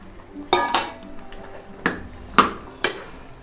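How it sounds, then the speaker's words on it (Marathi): Boiled taro ingredients are tipped into a cooking pot, giving a few sharp clanks and knocks of utensil on metal spaced over a few seconds against a quiet kitchen background. "आता त्याच्यामध्ये मी हे सगळं उकडलेलं साहित्य घालते."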